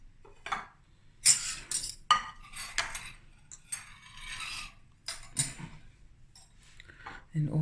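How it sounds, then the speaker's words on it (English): Pots and cutlery clink and clatter in irregular bursts as samp and beans soup is dished up, with scraping and tapping of metal on dishes and occasional voices in between. "I'm gonna dish up now."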